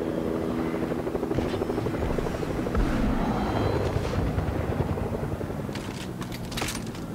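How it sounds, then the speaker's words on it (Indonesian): A helicopter in the video game Fortnite Mobile thumps its rotor steadily and loudly throughout, a continuous chopping drone with some whooshing wind layered over it. "itu helikopter"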